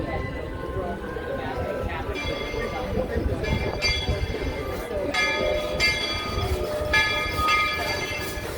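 Walt Disney World monorail train in motion, with a bright bell chiming in repeated strokes over steady rumbling rail and cabin noise, and people talking.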